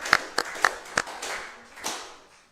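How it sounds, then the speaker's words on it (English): Scattered clapping from a small group at a high school football game as the players of the week are called up, in a few sharp, separate claps that quickly fade. "Let's give these guys a round of applause here."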